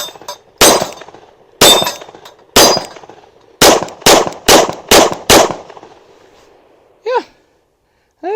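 A CZ P01 handgun fires eight sharp, loud shots into ballistic gel, three spaced about a second apart, then a quicker run of five, with a brief sound afterward.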